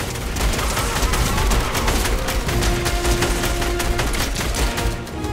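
Dense, continuous incoming gunfire during a Fortnite live event, with rapid cracking shots and heavy low rumbling impacts, stays loud and unbroken throughout before thinning slightly at the very end.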